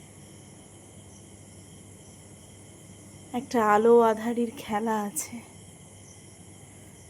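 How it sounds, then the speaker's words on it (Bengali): Crickets chirp in a steady, high, continuous drone after rain on a cloudy night, heard from a balcony; a voice speaks briefly over them midway. "ঝিঝি পোকার ডাক শুনতে পাচ্ছেন প্রত্যেকে?"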